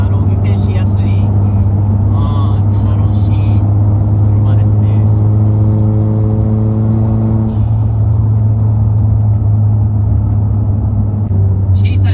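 A Toyota Chaser's engine gives a steady, loud low rumble near a Nissan S15 Silvia at Daikoku parking area, with a droning tone that shifts midway and people talking over it.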